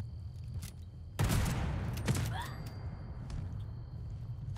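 Burst of gunfire from Fallout 76 gameplay, a single sharp volley followed by a second shot and fading echoes, over a steady low game ambience.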